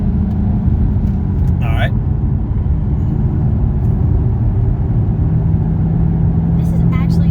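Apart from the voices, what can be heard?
Ford Shelby GT500 engine driving in gear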